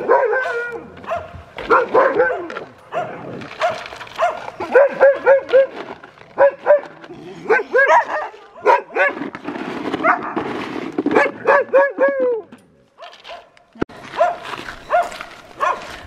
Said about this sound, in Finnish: Turo, älä vitti haukkua!